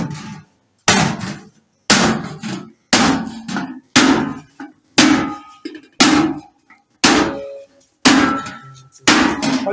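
A brass sheet is hammered into a vessel shape in a metalware workshop: around ten loud, close strikes at a steady, roughly one-per-second pace, each a hard metallic knock that fades briefly before the next.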